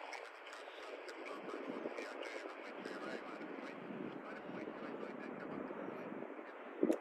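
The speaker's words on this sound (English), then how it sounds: "This is a Southwest airline, 737 landing." A Southwest Airlines Boeing 737 lands at San Francisco airport, its steady broadband jet roar heard from a distance at moderate level and unchanging for several seconds, with wind buffeting the microphone.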